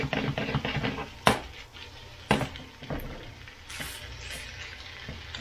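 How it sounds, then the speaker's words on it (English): Leftover fajitas and veggies are sautéed in a pan with a soft, low sizzle, broken by a few sharp utensil clacks and scrapes against the pan, fairly quiet and close. "And I want to saute this around. Until it gets mixed good and warm."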